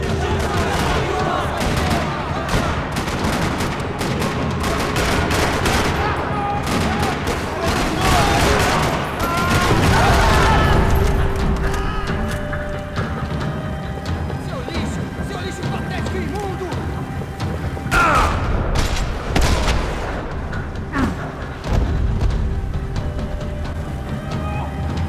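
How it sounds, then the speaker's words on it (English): Rapid bursts of gunfire crackle and rattle repeatedly in a parking lot in the video game Max Payne 3, loud and close, mixed with clatter and other action noise. "Another parking lot rattling with gunfire."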